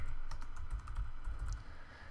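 Keys on a computer keyboard clatter in quick, uneven bursts of light clicks, close and moderately loud, while someone enters their name into a form.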